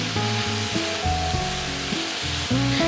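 Ramen wheat noodles tossed in a hot pan with basil and chickpeas, giving a loud, continuous sizzle with soft scraping strokes from the mixing and a low steady hum.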